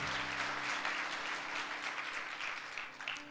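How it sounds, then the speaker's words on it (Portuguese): A church congregation applauds during a Sunday service, many hands clapping in a steady wash for a few seconds, moderately distant and soft, with low sustained organ or keyboard tones beneath. "dê um aplauso ao Senhor Jesus Cristo"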